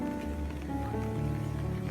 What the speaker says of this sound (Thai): ตอนนี้ฝนก็ตกปรยปลายนะครับ